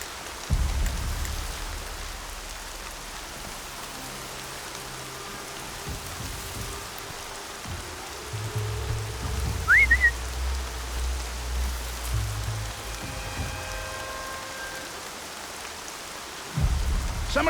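Steady rain pours throughout a stormy scene in the video game Horizon Zero Dawn, a constant hiss with low rumbles of thunder near the start, middle and end, and a brief high chirp midway.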